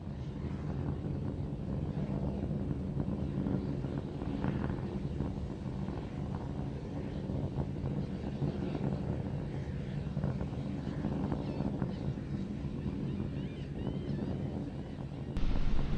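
Starship SN15 Raptor rocket engines roar steadily during a simulated test flight in the game Simple Rocket 2, a dense continuous thrust noise that holds constant from start to finish.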